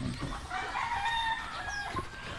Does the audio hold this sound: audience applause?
no